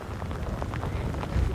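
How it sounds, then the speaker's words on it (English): Heavy rain pours down in Westport on New Zealand's West Coast during a severe weather washout, a dense, steady hiss with no break and no voices. "The heaviest of the rain has just set in probably the last half an hour or so."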